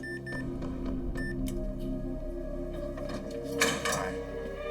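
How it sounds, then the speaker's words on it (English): A heavy bank vault door opening, a string of metallic clicks and clunks from the mechanism followed by a louder grinding release near the end, fairly close and without speech. "And the door opened."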